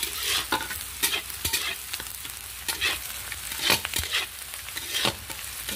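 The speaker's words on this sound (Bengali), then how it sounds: "ডালের ফোড়ন দেবো আমি, সেই জন্য পেঁয়াজ আর লঙ্কাটা একটু ভেজে নিচ্ছি" Onion and green chilli frying in a pan for a dal tempering: a bright close sizzle broken by repeated sharp stirring scrapes, with no voices.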